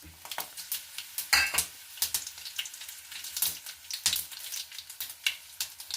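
Oil sizzles and crackles loudly as green chilies fry after mustard seeds, with irregular bursts of popping and stirring scrapes throughout, no voices.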